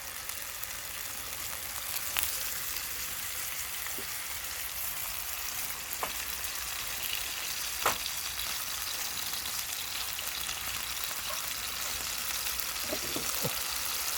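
Foraged blewit mushrooms and bacon frying in a pan, a continuous dense close sizzle with a few sharp pops and crackles spread through, steady in level with no voices.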